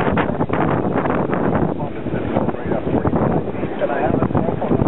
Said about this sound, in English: We just had a few gusts.